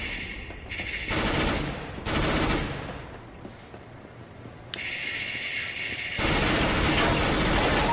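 Repeated gunfire bursts in Counter-Strike: Global Offensive on Xbox 360, loud clustered blasts with brief gaps, suggestive of a pump shotgun, over a steady game background and no talking.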